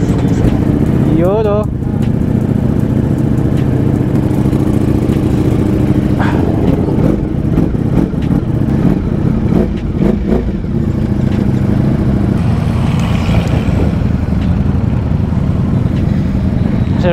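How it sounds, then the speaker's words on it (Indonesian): Ducati Streetfighter V4 motorcycle engine warming up, a steady loud mid-pitched idle running the whole time with a few brief throttle blips, while people talk nearby. "Painitin natin yung bagong motor natin"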